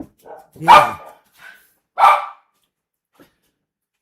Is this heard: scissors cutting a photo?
no